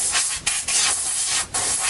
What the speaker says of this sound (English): spray can